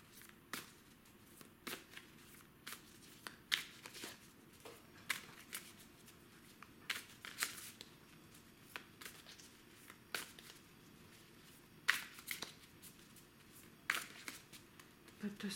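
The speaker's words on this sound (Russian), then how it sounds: "Давайте потасуем карты." Tarot cards are shuffled by hand in a quiet room, giving soft, irregular riffling flicks and taps with no talking.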